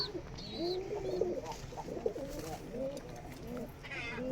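A pair of Teddy pigeons, one male and one female, coo softly and repeatedly at close range. The low, wavering calls overlap and continue through most of the stretch, with faint background noise and other birds around them at a pigeon sale.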